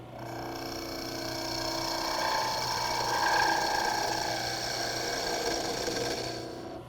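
Skew chisel chatter from a wood lathe turning a Christmas ornament: a steady, buzzing ratchet-like rattle with a high whine, continuous for several seconds at moderate level, fading out at the end.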